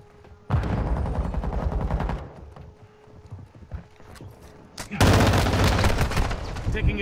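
Gunfire in a video game erupts in two dense, loud bursts of rapid shots separated by a quieter stretch of scattered noise, with a brief voice heard in the lull.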